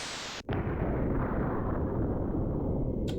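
A sci-fi atomic laser beam weapon in a fantasy video game fires with a sharp onset, then holds as a loud, sustained broadband roar for nearly three seconds.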